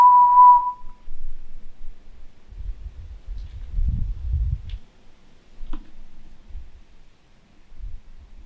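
A short, clear whistle sounds in the woods at the start, then gives way to low rustling and thumping, with a couple of faint clicks and taps in the quiet that follows.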